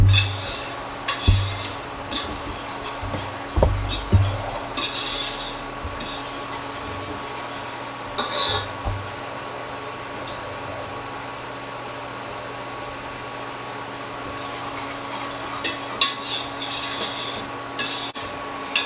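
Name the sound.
stirring flour paste in a pot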